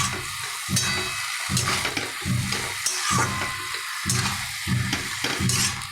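Water spinach (kalmi shak) stir-fried with dried chillies sizzles loudly and close in a pan, with a steady hiss broken by repeated rhythmic scraping stir strokes about every half second, and no voices.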